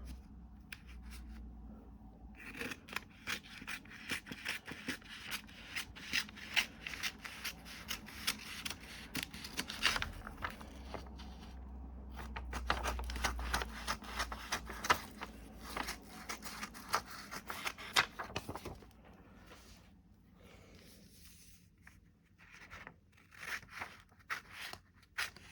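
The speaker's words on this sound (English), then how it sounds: "So what I might do is I might actually cut it so it just covers over Mac and the bit that I want to add." Scissors snip through paper to make a cover piece for a graphic-novel drawing, a long, close run of rapid crisp cuts and rustles with short quiet gaps between bursts.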